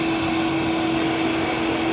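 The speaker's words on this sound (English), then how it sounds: "There's the vac." A vacuum extracts red wine from a wool carpet, giving a steady, loud, close suction whine with a constant tone and no breaks over two seconds.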